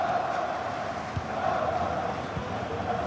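Stadium crowd noise from the football video game FIFA 23, in a Germany versus England match, rumbles as a steady, distant roar with a couple of brief low thumps and no voices standing out.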